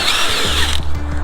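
A power tool whirs steadily at close range while cleaning the black plastic panels of a Suzuki Burgman 650 Executive scooter, its pitch sliding lower partway through. The burst is brief and continuous, with no talk.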